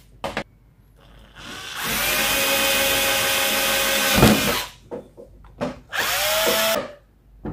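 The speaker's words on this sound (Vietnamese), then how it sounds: "Khoan một cái lỗ 8 ly nha các bạn." A power drill bores an 8 mm hole through a plastic cap, its steady high whine running for a couple of seconds, pausing, then a second shorter burst, loud and close with quiet handling noise between.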